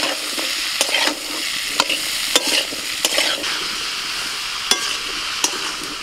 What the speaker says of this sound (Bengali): ফুলকপি আর বিনস ভেজে নেব